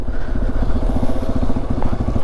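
A vehicle engine running on a narrow mountain road with failing brakes, a loud close steady throbbing idle with a rapid regular pulse and rattly texture, no speech.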